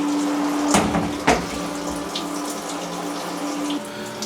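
Coolant sprays at low pressure in a CNC machine as a steady watery hiss and splash. A couple of sharp clunks break in early on.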